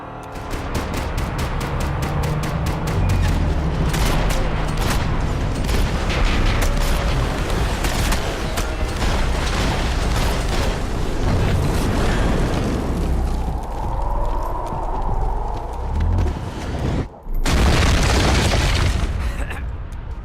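Sustained gunfire and heavy explosions in the video game Max Payne 3 over Hoboken, rapid volleys of loud shots under rumbling booms, with a short break near the end before another big blast.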